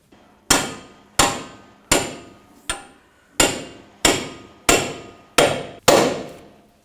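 Nine sharp, ringing hammer blows strike in a steady rhythm, each decaying quickly, as a ball joint is separated on a 2010-2017 Chevrolet Equinox during a CV axle replacement.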